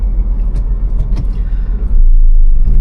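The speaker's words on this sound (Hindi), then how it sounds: "ट्रैफिक चल रहा है।" Road traffic passing by, a loud low rumble of vehicles that swells toward the end, with no talk over it.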